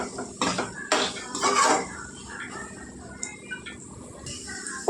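Chicken with curry leaves frying and being stirred in a pan, with several scraping, clinking strokes of a utensil against the pan over a soft background sizzle, close by.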